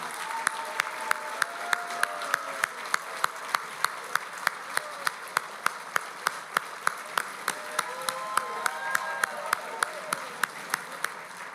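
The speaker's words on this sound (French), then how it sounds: "L'applaudir de toute son implication des 39 dernières années." Audience applauding a man retiring after 39 years of community service, sustained crowd clapping with a steady, regular beat running throughout, fairly loud and unbroken.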